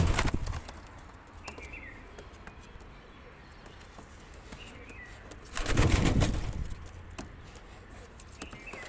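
Wings of a pair of Teddy pigeons flap in short bursts, with a louder flurry near the middle, over a low background rustle and no voices.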